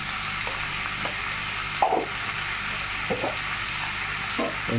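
Chicken pieces with turmeric and salt are stirred in a sizzling pan, a steady frying hiss broken by a few soft scraping and knocking strokes from the spoon.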